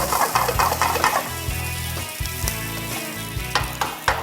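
Beef jerky with bird's-eye chilies and curly red chilies stir-fried in a pan for nasi goreng, giving a loud close sizzle with scraping and clinking from stirring throughout.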